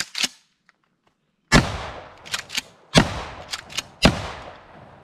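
Mossberg Shockwave 590 shotgun fired with 4-buck buckshot outdoors, a lone loud blast followed by three more sharp shots in quick succession, each with a decaying echo.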